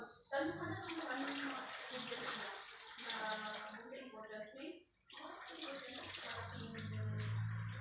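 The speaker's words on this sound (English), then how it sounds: "we're going to wash the hair of our patient slowly." Water runs steadily while a patient's hair is washed slowly during shampooing, with voices talking over it almost throughout.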